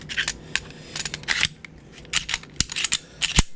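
Sharp metallic clicks and snaps come in scattered bursts as a S&W M&P 2.0 Compact pistol is put back together after cleaning, close and crisp with short gaps between.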